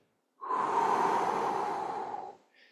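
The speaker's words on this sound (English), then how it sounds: "So now just exhale." A long, deep exhale during guided prayer breathing, a steady breathy rush lasting about two seconds, close and alone with no talking.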